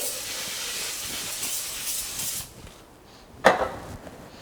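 A steady broad hiss of spray oil onto a hot pan for a couple of seconds, stopping abruptly, followed by a short sharp sizzle burst near the end.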